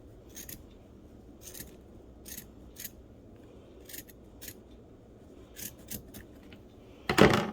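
Scissors trimming the bottom off the toe of a paper craft hat, crisp snipping cuts in uneven bursts, close and alone, with a louder clatter right at the end.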